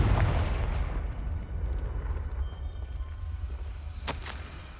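The Confringo explosive spell goes off in Hogwarts Legacy as a deep, rumbling blast that decays over several seconds, followed by a brief bright crackle near the end.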